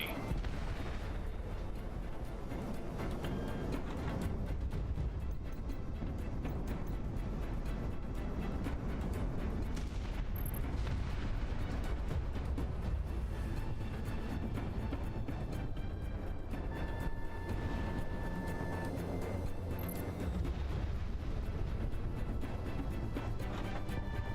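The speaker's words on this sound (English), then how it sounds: "Monarch missile on the way." Missile explosions and heavy booming fire in the Project Wingman flight combat game, a dense continuous rumble of blasts and gunfire-like bursts throughout, loud and sustained with a faint voice occasionally underneath.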